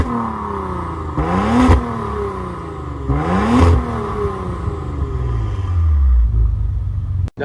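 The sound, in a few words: 2024 Maserati Levante twin-turbo V6 engine and exhaust revving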